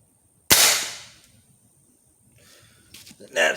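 A magnum pellet rifle fires into a 1x4 pine board with one sharp, loud crack and a decaying tail, then quiet with faint rustling and a few small knocks near the end.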